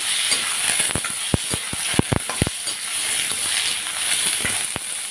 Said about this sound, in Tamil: இந்த ஸ்டேஜில் நம்ம இந்த எடுத்து வச்ச கிழங்க சேர்த்து விட்ருவோம். நல்லா கிண்டி விட்டுருவோம்.